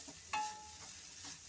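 A coconut, sugar and ghee mixture for coconut barfi is stirred in a pan, a few soft scraping strokes sounding close and quiet, with a faint sizzle and a short clink of the spoon against the pan.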